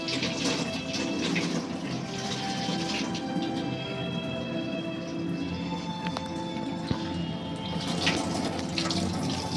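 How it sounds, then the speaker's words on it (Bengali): A bathroom tap runs steadily during face washing, its broadband splashing flow continuous and fairly close for nearly ten seconds with no talk over it. "ব্রাশ করা হয়ে গেছে, এবার মুখটা ধুয়ে নিই।"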